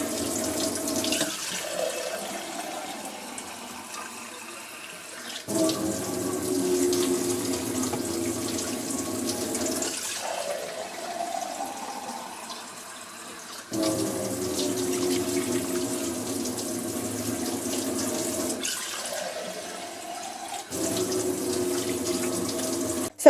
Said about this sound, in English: and now I'm just going to add some water.